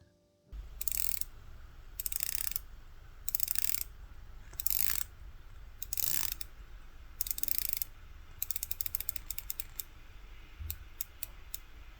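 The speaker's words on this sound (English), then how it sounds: "it has a 120-click unidirectional bezel, which is to be expected from a dive watch" Seiko Prospex SPB453 dive watch with a coin-edge unidirectional 120-click bezel being turned, bursts of crisp rapid clicks in a steady rhythm, close and alone, ending in a few sparse single clicks.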